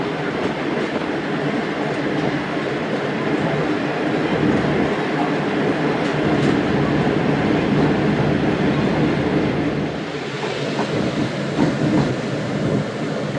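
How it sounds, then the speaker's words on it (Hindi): Train arriving at Mian Channu station, a loud, continuous rumble of railcars rolling past close by, with clattering wheels and faint squeals, easing slightly near the end. "5:44 पर ट्रेन का अराइवल हुआ है मियाँ चन्नू।"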